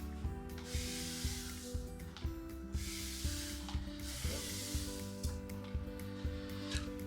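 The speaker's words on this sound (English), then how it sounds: "It's a little spray bottle I got for my bonsai trees, and I just love it. It really gives a nice mist." A small hand spray bottle mists bonsai trees in a rhythmic series of trigger pumps, each a mechanical click followed by a soft hissing burst of spray, repeated steadily at close range.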